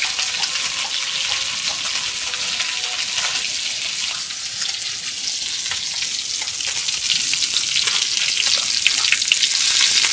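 Food frying in a pan after being flipped to cook the other side, a loud steady sizzle that stays close and continuous with no voices.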